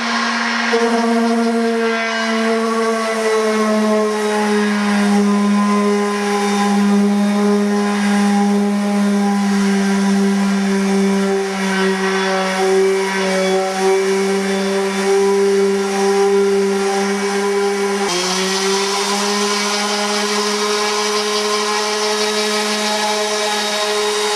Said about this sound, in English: my skill saw. Got the catch on the back. You want to start it up now.